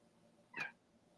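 A voice imitates a cat with a single short, faint meow rising briefly over quiet background hiss.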